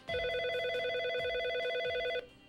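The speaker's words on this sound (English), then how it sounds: "It starts with a phone call." A telephone rings with a steady electronic tone, one continuous loud ring of about two seconds that then cuts off, heard alone without talk.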